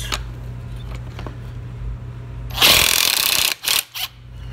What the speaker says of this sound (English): Well, loosens them, no problem.